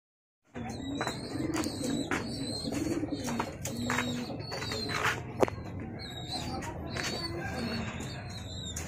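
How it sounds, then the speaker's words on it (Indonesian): Grey pigeons coo in a cage, a series of close, repeated, soft rolling coos with brief wing flutters and rustles between them. "saya mau jodohin dengan merpati cewean kelabu ini ya teman-teman ya"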